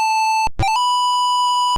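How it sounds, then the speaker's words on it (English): A PC speaker plays a sound from the Sega racing game Power Drift: harsh square-wave tones, a steady note broken by a quick stepped pitch change, then a higher held tone, loud and alone. "First up, the PC speaker."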